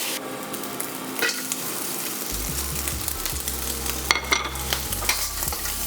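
Food stir-fries in a wok over high heat with a steady, dense sizzle. The spatula stirs and scrapes now and then, and a low hum sits underneath. Nobody talks.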